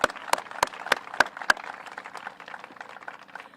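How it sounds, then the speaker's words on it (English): A round of applause from a crowd at a public works roadshow event, several sharp, close claps standing out over a soft wash of distant clapping that gradually fades. "I would just ask for a round of applause for all of the wonderful speakers that we had today"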